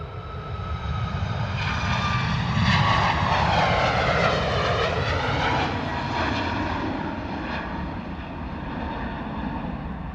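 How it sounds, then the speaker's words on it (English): A Ryanair Boeing 737 lands at London Stansted Airport, its jet engines roaring loud and close, with a rising and falling whine and steady broadband rumble throughout, no talk. "Beautiful landing gear shot there from the Ryanair 737."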